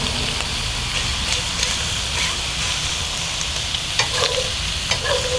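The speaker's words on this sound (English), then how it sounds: "we want it to sizzle and get some nice brown, sticky pieces of it" Chicken sizzles loudly and steadily in a hot pan, browning, with a utensil scraping and clinking as it is stirred.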